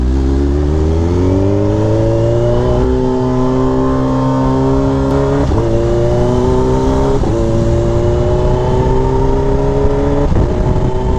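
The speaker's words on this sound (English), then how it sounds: "A lot of you guys have been requesting to go on a ride on this bike, so that's exactly what I'm doing." A Kawasaki H2 motorcycle ridden on the road on a mild day, its engine note climbing and dropping through repeated gear changes, loud and close throughout with steady wind and road rush underneath.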